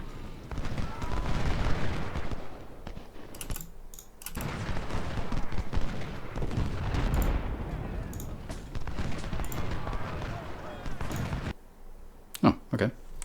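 Cannon and rifle fire crackle in Ultimate General: Civil War, a dense run of sharp battle reports and booms beneath steady talking, with a few louder bangs near the end.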